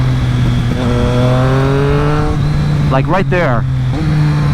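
A Triumph Street Triple 765 RS with a SPARK exhaust idles steadily, then gets a sharp rev that rises and falls quickly, loud and close, with a brief spoken comment layered over it.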